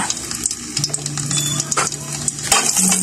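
Chopped ginger hits hot oil in a pot for chicken tinola. A loud, close, continuous sizzle with a few stirring scrapes and utensil clinks, and no one talking.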